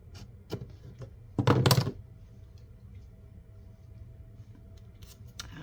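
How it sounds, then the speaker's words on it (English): Scissors snip through fabric with a few quiet cuts, one louder cluster of crisp snips in the middle, close and alone against a quiet room. "Let me just snip it here."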